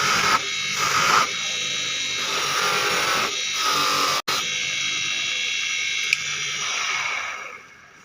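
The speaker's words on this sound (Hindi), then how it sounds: "तो इसका ग्राइंडर ऑन कर लेते हैं, ऑन करके इस पर चौक लगा देते हैं। दोस्तों अब इसको हम पॉलिश कर लेंगे ऐसे।" Bench grinder polishing a Siruba overlock machine needle plate with chalk compound, a steady high whine with rising and falling grinding contact, a sharp click midway, then the motor winding down at the end.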